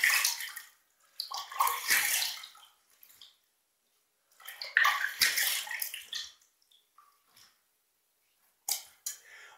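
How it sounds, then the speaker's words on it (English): A razor is rinsed under running water during a shave, giving several loud splashing bursts of flowing water separated by short silent pauses, close by and with no voices. "Let's rinse."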